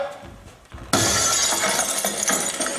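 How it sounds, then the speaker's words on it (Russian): After a quiet moment, a sudden crash of glass shattering, followed by a scatter of tinkling shards settling for a couple of seconds. "Блин, опять стекло разбили"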